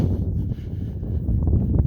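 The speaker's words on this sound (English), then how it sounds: "It's kind of windy here, I know." Wind blows outdoors in a brief, steady roar buffeting the microphone, with low rumbling gusts throughout and no talk.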